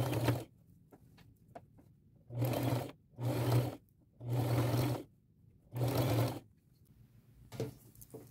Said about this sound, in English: I'm using a straight stitch